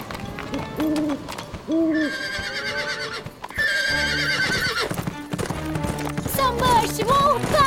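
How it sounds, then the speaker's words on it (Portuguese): An owl hoots in the Horseland animated cartoon, set among swaying trees at night, with clip-clopping hooves, horse whinnies and bright cartoon music around it, all fairly loud and continuous with no talk. "Foi só uma coruja!"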